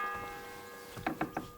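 A church bell tolls in the medieval video game Kingdom Come Deliverance II, heard as a few quick, quiet struck tones over a faint sustained hum, with no talking.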